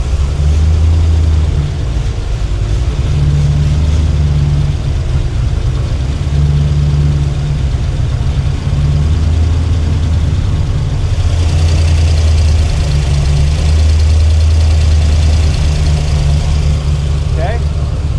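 El Camino engine running steady at idle after tuning work, a continuous low rumble with slight pulsing changes in pitch, close by and fairly loud, with no talk over it.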